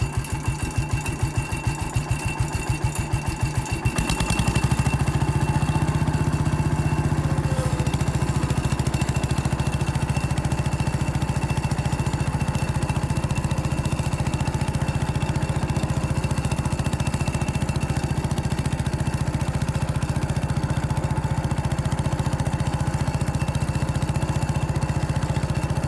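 An old garden tractor's small engine cranks with rapid chugging pulses, then catches and runs at a loud, steady, rattly idle for the rest of the time.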